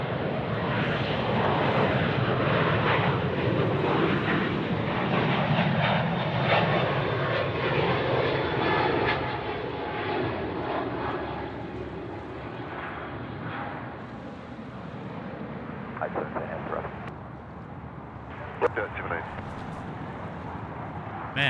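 A departing airliner climbs out from Sydney Airport's runway 34 right, its engine roar loud and broad at first, then slowly fading into the distance while people talk over it.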